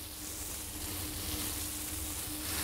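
Bell peppers brown with shrimp in a pan, giving a steady, close, moderately loud sizzle that runs throughout without talk.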